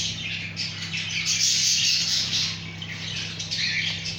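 Young parrots squawk and chatter continuously inside a breeding aviary, a dense, steady chorus of harsh calls close by with a low constant hum underneath.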